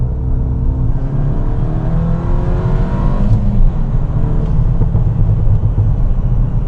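A Volkswagen Mk8 running a Unitronic software tune accelerates hard through a second-gear pull, its engine droning loud and close inside the cabin as the pitch climbs steadily, with no talking.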